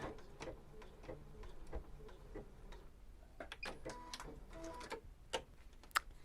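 An EverSewn Sparrow 30S sewing machine stitches out a letter B alphabet stitch, giving a quiet, close run of rapid mechanical ticks and clicks in bursts, with a sharper click near the end.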